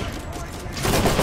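Rapid gunfire rattles in the video game Borderlands, a loud dense burst of shots that swells toward the end, with someone talking underneath.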